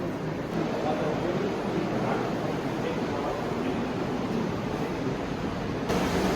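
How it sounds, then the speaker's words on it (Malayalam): Flowing water inside Sturmannshöhle cave at Obermaiselstein, a continuous broad rushing wash that stays steady and fairly loud from start to finish, echoing in the enclosed space. "ഒഴുകി വരുന്ന വെള്ളം"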